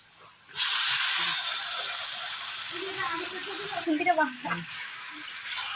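Chicken pieces sizzle and fry loudly in hot oil in a pan, a steady broadband hiss with scraping stirring strokes near the end, while someone speaks quietly underneath.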